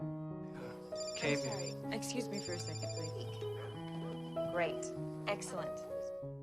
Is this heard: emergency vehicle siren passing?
no